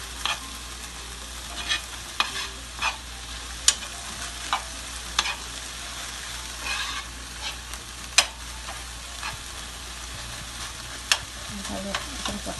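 Ground meat sizzles steadily in a frying pan for empanada filling, with repeated sharp scraping and clacking of a utensil stirring it at irregular intervals, close and alone with no voices.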